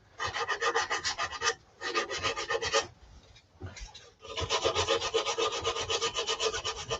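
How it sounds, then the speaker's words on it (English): Sandpaper rubbing on a wooden heart box turned on a lathe, 100 grit, a loud close rasping hiss in long sustained strokes with brief gaps between passes. "Still using the 100 grit"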